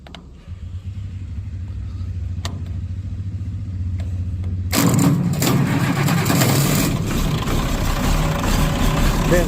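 An antique tractor engine is cranked and catches, a low rumbling turnover that bursts into a louder rough running roar about halfway through, close by.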